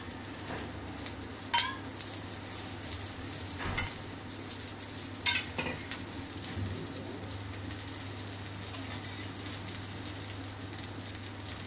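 Dosa batter sizzles on a hot pan with a soft, continuous hiss, broken by a few sharp clacks of a utensil.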